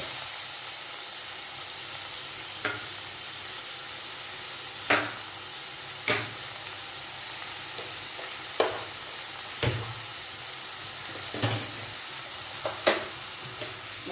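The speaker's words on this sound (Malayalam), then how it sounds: "ഇനി നമുക്ക് തക്കാളി ചേർത്ത് കൊടുക്കാം." Tomatoes fry in a pan for an egg and vegetable stew, giving a steady hissing sizzle with occasional light clicks of a stirring spoon at irregular intervals, and no one talks.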